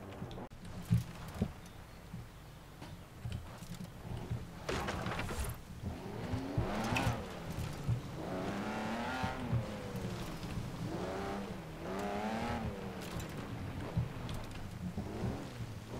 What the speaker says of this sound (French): Et on va aller faire un peu de tout terrain en Ferrari.